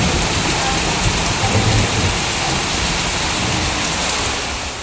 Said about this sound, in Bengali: শুরু হয়ে গেল মুষলধারে বৃষ্টি